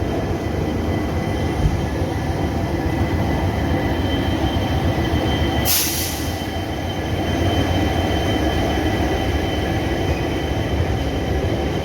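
The 12881 Garib Rath Express rolls steadily into an empty station, its wagons rumbling loud and continuous throughout, with brief wheel squeal and a sharp hissing burst midway.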